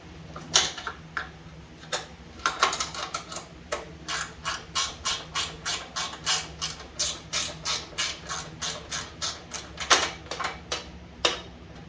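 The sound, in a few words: ratchet removing half-inch fender bolts on Case/Ingersoll 446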